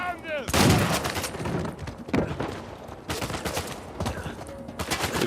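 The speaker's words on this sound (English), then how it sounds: "That was a perfectly good window frame you just shot out." Gunfire in Uncharted 4 shatters a window frame: sharp bursts of shots crack out in clusters over a few seconds, loud and close, with debris and game noise between volleys.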